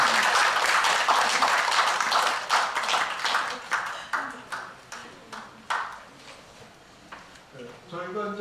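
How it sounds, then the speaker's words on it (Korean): A gathering of an investigative committee publication team gives applause for its research committee members: a brief burst of clapping that quickly thins into scattered claps, with speech around it. "우리 이 조사위원들에게 좀 박수를 전해 주시겠습니다"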